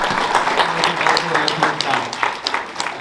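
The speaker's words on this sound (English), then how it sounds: "can we please give him another big round of applause?" A graduation and Eid social audience applauds a doctor, a moderately loud bed of clapping with crowd murmur and voices mixed in.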